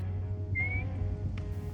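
A person gives a single short rising whistle, a bird-call imitation used to locate birds, clear and close against a low background hum.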